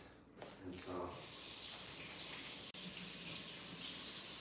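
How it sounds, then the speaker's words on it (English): Spatula rinsed under a running kitchen tap during live cooking, a steady broadband rush of water with one brief break near the end. "rinse off our little spatula"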